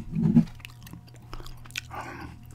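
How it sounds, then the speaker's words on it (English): Soft, close gum chewing with moist smacking and small clicks, quiet and intermittent with a louder chew near the start, recorded up close for ASMR. "this is Gum Chewing Impressions vid"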